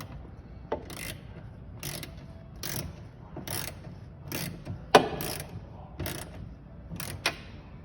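Bolts being snugged down into a plastic tail light housing, heard as a series of about ten short, regular ratcheting clicks with small metallic ticks between them, close and fairly quiet.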